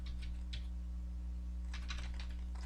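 Clusters of quick, soft clicks from a computer keyboard being typed on, with a pause in the middle, over a steady low electrical hum.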